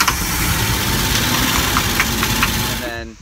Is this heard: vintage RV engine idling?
yes